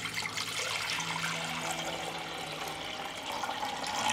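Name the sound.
pouring a litre of cold water into pressure cooker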